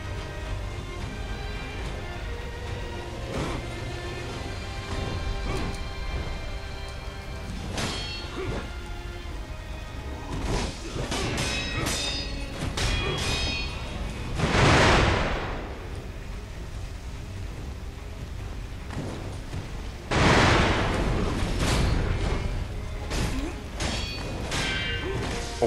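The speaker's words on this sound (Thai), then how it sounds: "โดนระเบิดตาย" In-game explosions in Sekiro: Shadows Die Twice, with two heavy booming blasts about five seconds apart standing out over scattered thuds, clanks and swishes of combat.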